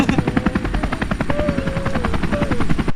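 A helicopter's steady rotor thump and engine whine run loud and continuous throughout, with a rapid chopping pulse filling the whole stretch, set amid a comic outdoor scene.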